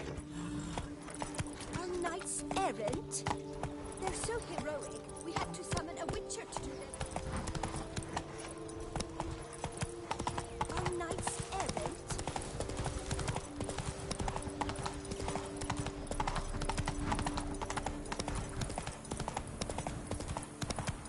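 In The Witcher 3, the horse Roach trots along, its hooves making a steady, brisk clip-clop. The sound is fairly faint and runs under voices and game sound throughout.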